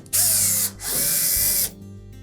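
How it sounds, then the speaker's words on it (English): A power drill backs Phillips head screws out of the top panel of a Samsung dryer in two close, loud whirring bursts with a short pause between them. "you'll need to remove 2 screws located on the back edge of that top panel"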